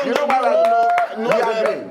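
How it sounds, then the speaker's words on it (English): A few sharp, uneven claps from women in a casual Nigerian chat setting, scattered through the clip under lively overlapping talk and laughter. "Women, Shakara clap."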